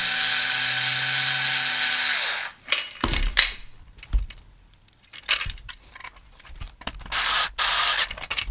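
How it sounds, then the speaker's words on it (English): A power drill whirs for a couple of seconds and stops, followed by short bursts of driving screws and clattering, clicking handling noises close by, while building an audio stage box. "I'm just using the drill to get it in there."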